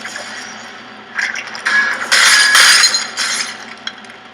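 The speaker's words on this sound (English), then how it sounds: "Breaking that glass" Glass shatters in the Portal video game, heard as several bright, crackling crash bursts with tinkling shards over a steady background hum, loud and close.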